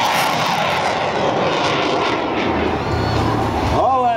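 A loud, steady jet-powered propeller aircraft engine roar during an airshow hover maneuver fills the whole stretch, with a rising whine near the end and a voice talking faintly underneath.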